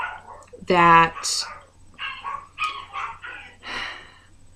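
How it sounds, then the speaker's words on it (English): Dogs bark and yip from another room of a home, a sharp loud bark followed by whimpering yips, mixed with a person talking nearby. "I apologize if you can hear my dogs out in the living room"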